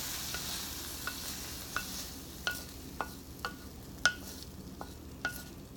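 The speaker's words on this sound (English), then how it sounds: "because I decided to use my small omelet pan, I'm gonna just dump out the vegetables." Vegetables for a teriyaki chicken yakisoba stir fry are shifted out of a small omelet pan, with faint sizzling under a string of light scraping taps at irregular intervals.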